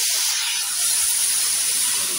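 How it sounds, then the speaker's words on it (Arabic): Boiling water pours into a cooking pot with a steady, loud hiss and steamy rush that holds constant throughout, close and without speech. "اهو هنحط ميه مغليه"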